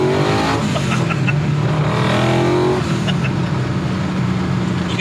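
A Nissan Skyline fitted with a VK56 V8 and a TR6060 six-speed manual accelerates hard through the gears, a loud, close, continuous engine roar that climbs in pitch, shifts and keeps pulling for the whole stretch.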